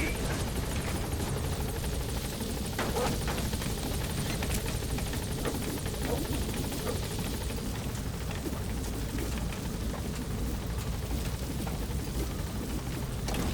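The Pequod helicopter in Metal Gear Solid V arrives at a landing zone, its rotor roar loud and continuous, a broad steady wash of noise with a rain-like hiss, no voices.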